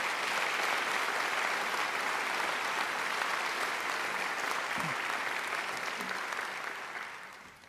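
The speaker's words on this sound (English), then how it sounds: "So I think they deserve a great round of applause too." Sustained applause from a large audience at a graduation ceremony, dense steady clapping that holds for several seconds before beginning to thin out at the end.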